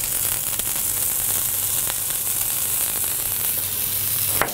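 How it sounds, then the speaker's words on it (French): A beef burger patty sizzles on a hot plancha griddle, making a loud, continuous frying hiss close up over a low hum, with no talking. "Une fois qu'on a mis notre viande sur la plancha"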